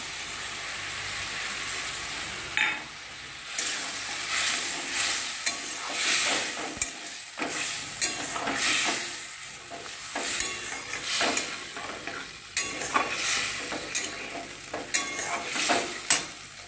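Spice paste and sour yogurt paste frying in a pan for a vegetarian jackfruit curry, a loud continuous sizzle broken by repeated scraping strokes of a spatula stirring through the mixture.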